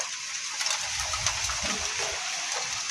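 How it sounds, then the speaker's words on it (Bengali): Rain falls outside on a windy day, making a steady, even hiss that stays at a moderate level, with faint gusty swells underneath. "বৃষ্টি পড়ছে।"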